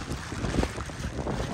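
Wind roars steadily into the microphone while riding a motorbike in heavy rain on the road from Pokhara to Nayapul, a continuous close buffeting rush with no talk.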